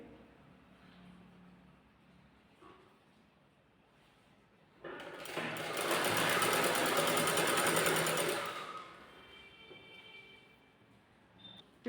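A sewing machine stitches a net fabric blouse along the shoulder seam, running in one loud, steady burst of about three and a half seconds between quieter stretches of handling noise.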